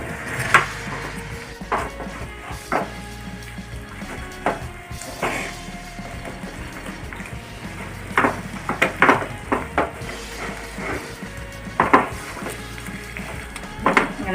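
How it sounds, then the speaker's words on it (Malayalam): Gram flour cooking in ghee for Mysore pak, stirred steadily in a pan with a faint sizzle and repeated scraping and knocking of a spoon against the pot, close and fairly quiet, no talk. "നമ്മുടെ നെയ്യിൽ കിടന്ന് നന്നായി ഇളക്കി യോജിപ്പിക്കുന്നത്"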